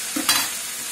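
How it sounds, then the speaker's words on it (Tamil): Sugar roasting in a pan for a Tamil chutney (thuvaiyal), with a soft, steady frying hiss, one faint stir near the start and a slightly louder scrape just after. "நல்லா சுகர் ரோஸ்ட் ஆகணும் இன்னும் வறுபடணும் நல்லா வறுபடட்டும்"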